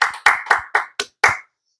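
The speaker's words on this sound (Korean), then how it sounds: "하나님께 우리 감사와 영광의 박수 올려드립니다." Six distinct hand claps from a church congregation during a Sunday worship service, in a quick uneven rhythm that tails off with a brief echo, close and loud with no talk.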